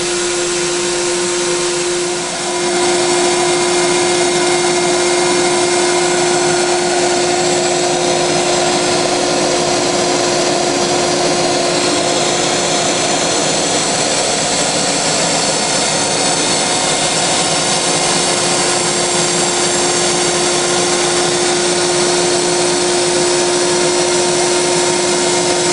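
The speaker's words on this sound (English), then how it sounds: "we're gonna vacuum it closed." A screen printing vacuum table pump runs nonstop with a steady, loud mechanical roar, a constant pitched whine over broadband noise and no pauses.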